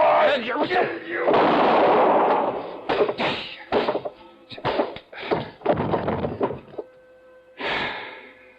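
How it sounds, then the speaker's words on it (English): A gunshot in an audio drama set at a swamp cabin, one of several loud sharp bangs and thumps among dramatic voices and scuffling. "I knew the sound of the gunshot would bring the others back to the cabin."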